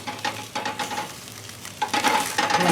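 Steak sizzling and spitting on a hot griddle while being turned, a close, crackling sizzle with bursts of scraping and frying noise that swell and fade, no speech.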